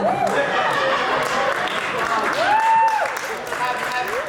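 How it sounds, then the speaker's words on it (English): At a comedy show, the audience applauds moderately while a comedian keeps talking over the clapping, which swells and fades. "Please applaud me."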